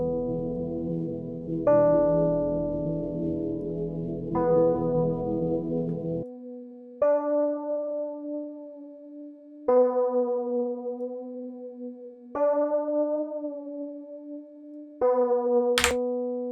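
Lo-fi music run through a tape emulation plugin, a sustained harmonic tune phrased in repeated notes with sharp attacks every few seconds, playing alone without talk.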